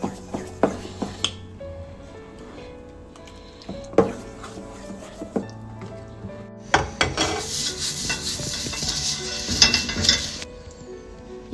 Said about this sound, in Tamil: தோசை மாவில் மிக்ஸ் பண்ணிக்கலாம்.